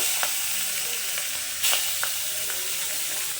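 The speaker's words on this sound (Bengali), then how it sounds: "আবার এদিকে আমি মাছটাকে ভেজে নেব" Fish heads fry in hot mustard oil in a wok, giving a steady close sizzle with brief louder crackles and spits scattered throughout and no voices.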